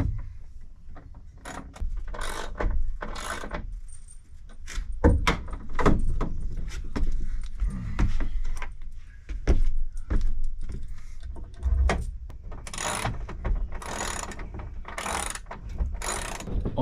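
Two-inch nuts and bolts being tightened to refit a wall panel inside a Sprinter van conversion: repeated ratcheting clicks in short bursts with clanks and metallic handling noises, close and moderately loud.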